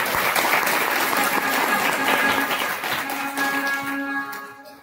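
An audience at a religious discourse during a Shravan-month Rudra puja gathering claps loudly in dense, continuous applause that tapers off near the end.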